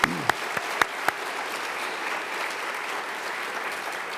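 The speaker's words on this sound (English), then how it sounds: "A sign of our appreciation to Mr. Sestito, please join me in applauding in appreciation and wishing him well." Applause from a church congregation for a departing school figure at a Catholic school graduation, a few sharp claps at the start then a steady dense ovation from the crowd.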